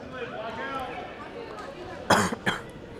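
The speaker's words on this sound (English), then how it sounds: "Excuse my coughing." A sports commentator at a girls' high school basketball game coughs twice, sharp and close, after talking over steady gym crowd noise.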